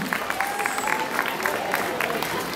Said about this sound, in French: On l'applaudit bien fort, les montagnards du Laos